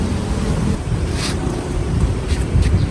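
Strong, cold wind by a river roars and buffets the microphone continuously, with a rushing, gusty low rumble and no voices.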